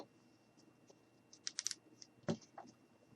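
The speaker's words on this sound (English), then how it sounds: "we're just going to go ahead and cut it" Scissors cut through a piece of pantyhose while making a baby doll, giving a few quick, close, crisp snips followed by a heavier single cut, with no talking.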